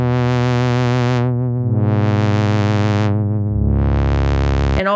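Modular synth drums under a sustained electronic lead line played on a Von Gogh replay, with bright sweeping tones that open and close in slow waves, loud and continuous with no voice.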